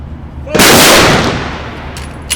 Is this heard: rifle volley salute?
yes